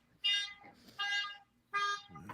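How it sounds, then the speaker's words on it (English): A neighbor's car alarm sounds from next door in three repeated whooping bursts separated by short gaps, moderately faint and slightly distant, with no talk over it. "No, like a car alarm."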